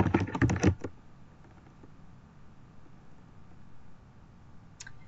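A quick burst of typing on a computer keyboard, a rapid cluster of close, crisp key clicks at the start, followed by near quiet with a faint click at the end.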